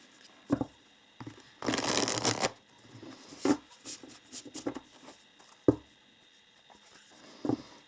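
Tarot and oracle cards being shuffled by hand: dry papery riffles and slides in short bursts, one longer rustling run, close and fairly quiet, with no talk.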